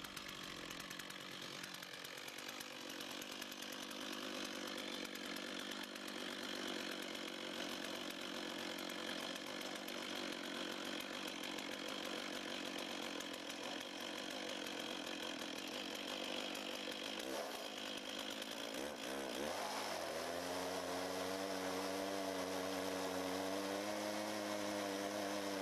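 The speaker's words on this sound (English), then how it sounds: "Start the saw on the ground with the chain brake activated." A chainsaw mounted on a Logosol Big Mill LSG sawmill runs steadily and loud at close range, then revs up sharply with a rising, wavering engine whine near the end.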